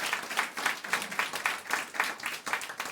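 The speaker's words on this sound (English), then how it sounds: "Please give a round of applause to our tech and all the staff here at Club Haug" Audience applause at a stand-up comedy show in a Rotterdam club, crowd clapping for the tech and staff in a rhythmic, pulsing wave, moderately loud and close.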